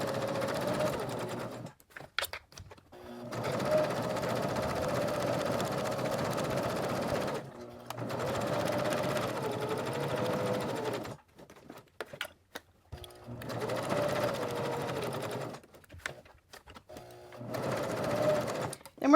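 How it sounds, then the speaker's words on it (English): A sewing machine stitching a magnetic wrist cuff, running in steady buzzing bursts of several seconds with short pauses between them. "I'm going to leave my needle down, lift my presser foot, rotate my project,"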